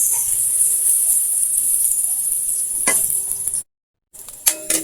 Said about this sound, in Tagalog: Gisa lang natin hanggang sunod-brown yung ating garlic